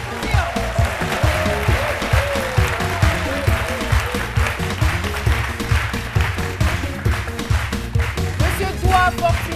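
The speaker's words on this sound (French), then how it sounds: "On va le recevoir avec des ovations bien nourries, Monsieur Doua Fortuna, que je vous demande d'applaudir." A TV midday show's studio audience applauds to welcome a guest, steady clapping layered over loud rhythmic music with a strong bass beat throughout.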